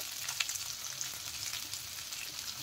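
Chopped onion sizzles in hot oil with lightly fried garlic in a pan, a steady bright frying crackle with scattered pops, close and even throughout, no voices.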